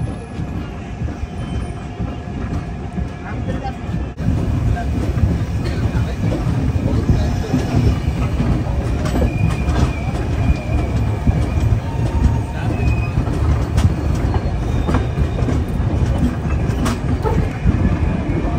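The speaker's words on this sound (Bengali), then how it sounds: "এসে গেছে ট্রেন আমাদের গয়া জাংশন" Passenger train pulling into Gaya Junction, heard from inside a coach as a loud continuous rumble with clattering wheels and faint squeals, rising a little after a few seconds and rolling on steadily.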